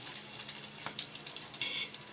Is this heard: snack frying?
yes